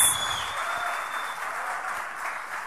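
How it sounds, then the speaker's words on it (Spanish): Church congregation applauding, a steady wash of clapping from many hands that holds evenly and fairly distantly throughout, with no talk over it. "Y denle un aplauso al Señor que Dios nos está fundamentando"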